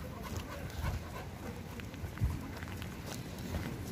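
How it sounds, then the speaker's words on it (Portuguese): A small dog runs along a street at a beach town, its quick pattering footsteps and light panting fairly faint against steady outdoor background noise. "aquele cachorrinho que vai correndo lá"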